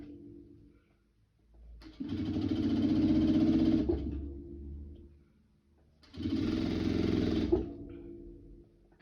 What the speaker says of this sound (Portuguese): da gente costurar essa partezinha do debrum pra cima